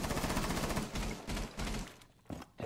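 Gunfire in a video game, close rapid bursts of automatic shots rattling for about two seconds, then a couple of short separate bursts, with no talking.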